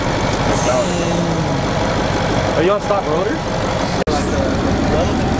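A truck engine idles close by with a steady low rumble throughout, as people talk over it and a sharp click sounds near the end.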